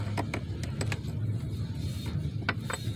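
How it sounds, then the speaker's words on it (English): A bolt on a Jeep XJ transfer case shifter linkage is snugged up with a ratchet, giving a series of quick, close metallic clicks in irregular bursts and no voices. "Now I'm going to snug this bolt up."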